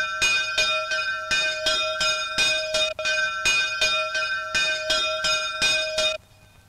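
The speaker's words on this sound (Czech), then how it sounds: "a je to vlastně zvonička, která byla ve filmu vidět při klekání" A village bell tower near a forest cottage rings with steady, evenly spaced clangs, about a dozen strikes close and loud with a bright ringing tone, each stroke decaying briefly before the next, then stopping abruptly.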